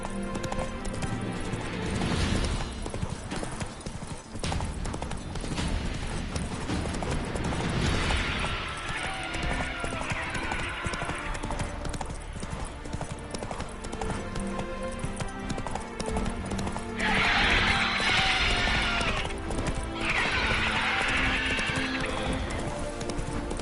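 A horse named Roach gallops with steady, dense clip-clop hoofbeats and occasional neighs, rhythmic and close, over a busy background of mechanical clatter.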